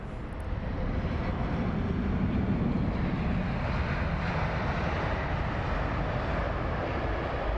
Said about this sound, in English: we will get that jumbo departing